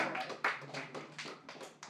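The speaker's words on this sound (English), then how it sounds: "let's give a big round of applause for Zach Weissman" Audience applause at a comedy night as a comedian takes the stage, close scattered clapping with uneven sharp hand claps over roughly two seconds.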